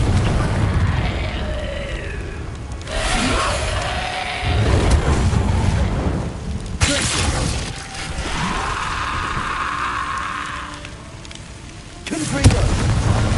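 Confringo blast spells fired in the Hogwarts Legacy video game set off loud, booming explosions that come in separate bursts, with voices heard between the blasts.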